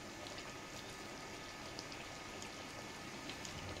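Omelette pieces simmer in boiling lentil dal, a faint, steady bubbling and popping that fizzes evenly throughout without any voices.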